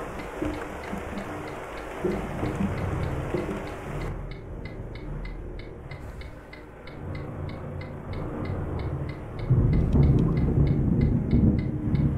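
Heavy rain pours in a steady, dense hiss at the Merak ferry port during a thunderstorm, with low rumbling swells and a regular ticking beeping pattern running through it, and no speech.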